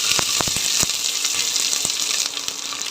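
Onions hit a hot pan of oil for a chicken curry, giving a steady broad sizzle with scattered crackles and pops throughout, close and continuous, with no speech.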